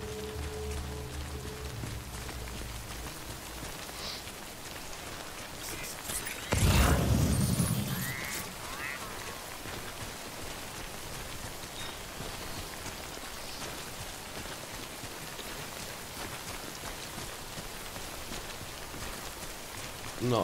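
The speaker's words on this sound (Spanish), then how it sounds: "Pues parece que me ha salvado la lluvia." Steady rain patters continuously in the video game Death Stranding, broad and even throughout, with a brief louder burst of noise partway through.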